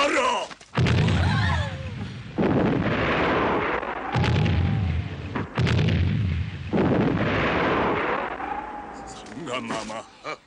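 Loud artillery cannon blasts from a Korean period monster film, several booming shots spaced a few seconds apart with long rumbling tails over a continuous noisy bed.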